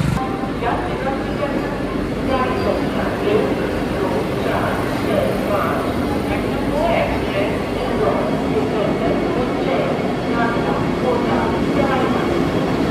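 Steady rumble inside a Vande Bharat Express train running from Indore toward Nagpur, a constant low roar with faint rattles and murmured background voices throughout.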